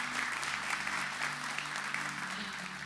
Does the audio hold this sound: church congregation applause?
yes